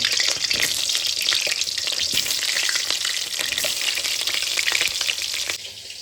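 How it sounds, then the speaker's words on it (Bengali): Whole onions fry in mustard oil in a wok for mutton curry, a loud, steady, crackling sizzle that runs unbroken for several seconds and eases slightly near the end. "কলাইতে সর্ষের তেল দিয়ে দিলাম এবার আমি কি করব এরকম গোটা গোটা পেঁয়াজ এর মধ্যে দিয়ে দেবো"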